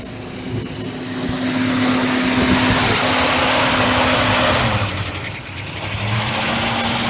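A 1977 Ford F100 truck engine, just brought back to life after being stuck, runs at a fast idle with a loud, close, steady rattling drone that dips briefly and then picks back up, with no talking.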